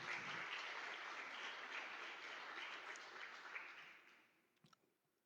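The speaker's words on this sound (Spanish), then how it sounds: "Denle un gran aplauso al Señor." A church congregation applauding, a broad wash of many hands clapping that fades away toward the end, with a few last isolated claps, heard at a moderate distance with no talk.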